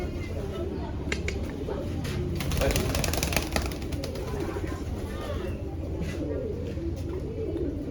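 Racing pigeons coo softly amid a busy outdoor background, with low murmuring calls and scattered clicks and flutters under steady ambient noise.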